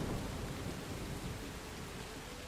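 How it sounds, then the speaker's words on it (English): Steady rain hisses continuously in the video game Summum Aeterna, a dense even wash of drops bouncing off surfaces at low level, with no voices. "With the rain bouncing off."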